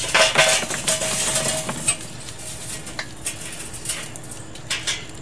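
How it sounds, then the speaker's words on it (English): Lit all-natural charcoal briquettes tumble into a Char-Griller Akorn kamado grill, first as a clattering rush of knocks and then as scattered lighter clinks and taps, close by with no speech. "So I've got some lit bricks we're going to dump in here."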